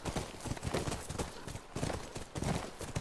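Horse hooves clip-clopping at a steady walking rhythm in The Last of Us, close and continuous across the moment, with a low rumble of ambient noise beneath.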